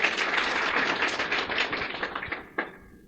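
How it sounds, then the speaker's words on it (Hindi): Audience applause at a talk, a dense wash of many hands clapping that holds steady, then thins and tapers off near the end with a few scattered claps. "तालियां बजा दें इनके लिए एक बार।"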